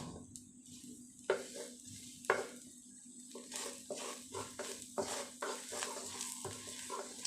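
Garlic frying in salted-egg oil in a wok, with a steady sizzle under repeated spatula stirs and scrapes against the pan, close and moderately loud.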